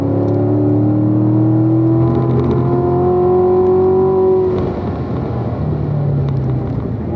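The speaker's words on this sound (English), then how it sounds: "Squeezing that throttle up that hill." Grand Sport car's engine accelerating uphill on a driving school track, a loud sustained drone with rising harmonics as the throttle is squeezed, easing briefly near the end.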